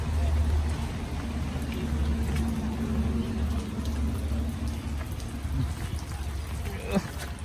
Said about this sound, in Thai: โอ้โห ฝนตกนะครับ นี่เพิ่งซาซาลงหน่อยนะ ตกหนักเลย